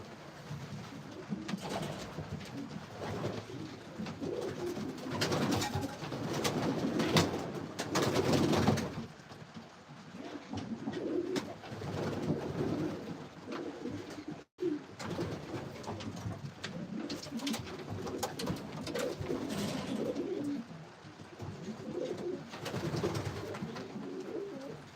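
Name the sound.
racing pigeons cooing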